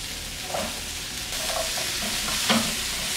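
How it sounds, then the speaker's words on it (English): Cauliflower and carrots are stirred into a hot tadka in a pan, a continuous close sizzle with soft scraping stir strokes for a sabzi with sweet peas. "So we're going to bring cauliflower, gobi, and we'll mix it well."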